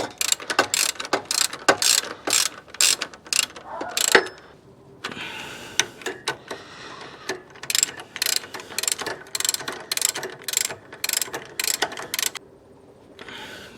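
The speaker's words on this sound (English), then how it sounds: "it's just a matter of doing them up with the ratchet" Ratchet clicking in quick, steady bursts while tightening bolts on lowering links of a Yamaha Tenere 700 motorcycle, close and crisp, with a short pause midway before the rapid pawl clicks resume.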